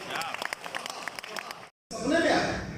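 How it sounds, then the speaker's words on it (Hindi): A poetry gathering audience claps in a thin, scattered patter beneath someone speaking, then after a brief cut a denser burst of applause follows. "तालियां कमजोर है यार आप लोगों को"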